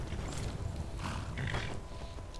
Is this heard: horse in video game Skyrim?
yes